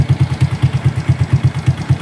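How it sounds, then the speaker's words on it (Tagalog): A Suzuki Smash FI motorcycle engine idles shortly after a cold morning start, a close, loud, steady pulsing chug with a rapid even beat and no talking. "may bago akong naririnig dito sa makina niya. Pag bago siyang bukas sa umaga."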